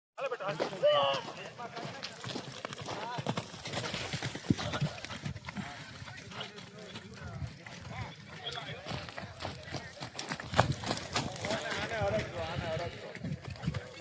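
Kathiyawadi horses clop their hooves at a wedding, the irregular hoof beats mixed into a busy outdoor scene with people talking and calling out around them.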